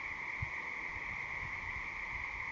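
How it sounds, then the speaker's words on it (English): Many frogs croaking steadily at a farm at night, a dense continuous chorus of overlapping calls at moderate distance with no voices. "Do you hear those frogs?"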